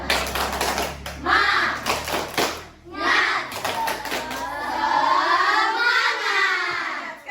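Children clapping the rhythmic 'tepuk semangat' pattern in an Islamic religious education classroom, with bursts of quick hand claps alternating with voices chanting along, close and fairly loud.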